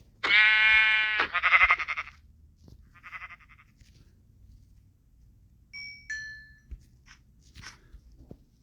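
A white sheep in the Minecraft video game bleats loudly and close, with two calls near the start followed by a fainter one. Soft game tones and clicks follow.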